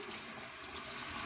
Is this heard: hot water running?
yes